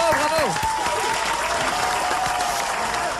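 Sustained applause and cheering from a crowd at windows honouring hospital staff, broadcast on a radio show, dense clapping filling the whole stretch with no talk.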